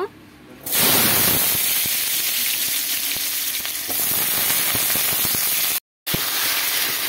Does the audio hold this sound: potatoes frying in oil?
yes